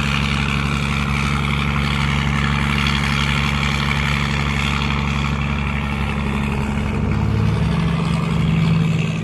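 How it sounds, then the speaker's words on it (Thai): A wooden tugboat's steady low engine chugging continuously on a river in flood, loud and close, with a broad wash of noise over it and no voices. "เสียงมันเป็นเอกลักษณ์นะท่านผู้ชมครับเสียงของเรโยงไม้นะ"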